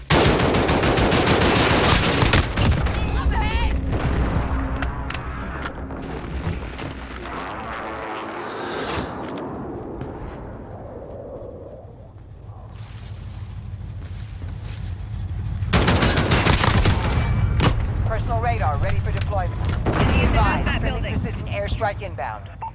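Heavy gunfire and machine-gun bursts roar nearly nonstop in a Call of Duty: Modern Warfare battle, with an airstrike's loud booming blasts swelling twice amid the chaos while voices call out under the din.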